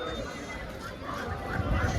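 At a village cattle market, ducks give brief, close quacks and honks against a busy, muffled crowd background, with someone talking.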